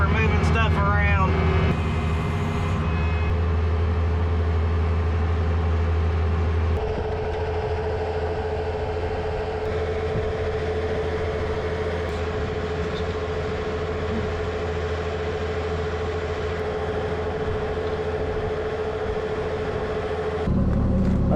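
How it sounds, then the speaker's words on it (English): Skid steer loader engine rumbling steadily while moving scrap, a loud continuous diesel drone with a strong steady hum and some clanks near the start, with speech over it. "Having the skid steer sure is nice for moving stuff around."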